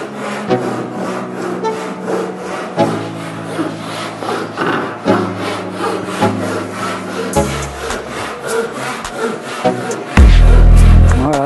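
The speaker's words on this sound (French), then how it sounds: "Mais c'est comme la scie européenne." Hand saw cutting wood with pull strokes while a wooden compass is made: rhythmic rasping strokes repeat close up, with a brief heavier rumble near the end and no talk.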